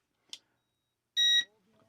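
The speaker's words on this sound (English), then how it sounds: "get that solid long beep" A mini drone transmitter being reset gives a short chirp, then a clear sustained electronic beep of about a quarter second, with faint murmuring afterward.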